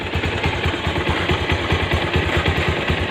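A Bajaj Pulsar 150cc motorcycle engine idles close by with a steady, even chug and a dense mechanical rumble that holds at one level from start to finish, with no talking over it.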